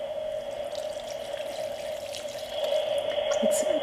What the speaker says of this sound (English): I'll just water it until I see that it's going down in the little tray